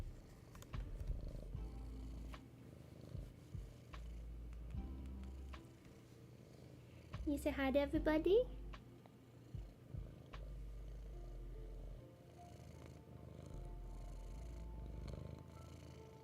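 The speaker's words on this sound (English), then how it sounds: "She also purrs obscenely loud." Close, loud purring from a domestic cat, a rhythmic low rumble pulsing in repeated breaths near the microphone, with a brief meow-like vocal burst in the middle and a person speaking softly.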